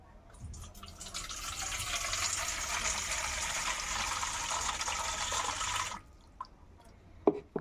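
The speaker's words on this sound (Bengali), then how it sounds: "আমি গামলা বাটি নিয়ে নিয়েছি আর পরিমাণ মতো আমি জল দিয়ে দেবো।" Water pours steadily into a bowl for about five seconds, a bright continuous splashing stream close by, then stops, followed by a few faint drips and small clinks.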